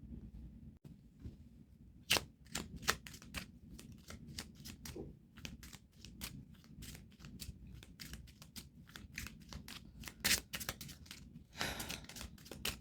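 A deck of playing cards is shuffled and handled at close range, giving rapid dry riffling flicks and snaps in irregular bursts, some of them louder, over a quiet background.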